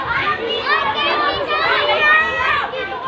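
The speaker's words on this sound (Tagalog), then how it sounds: "Nagkagulo yung mga bata." Children at an outdoor feeding program shout and play noisily, a dense continuous crowd of high excited voices with no pause.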